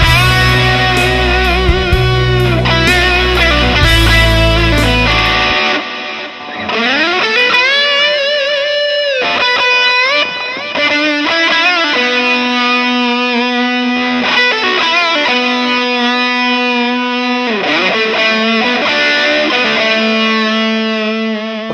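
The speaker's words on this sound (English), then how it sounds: "I'm gonna use a distortion instead of that" Heavily distorted electric guitar plays sustained chords and bending lead notes, loud and up close, with no talking.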